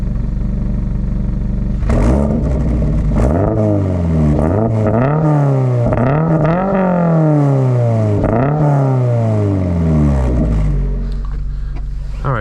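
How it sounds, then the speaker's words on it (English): A 2024 Subaru BRZ Limited engine revs repeatedly, each blip climbing sharply then falling back to idle in a rhythmic series of roughly half a dozen pulls, loud and close, with no talking. "let's go ahead and give this car a few revs and take it for a spin"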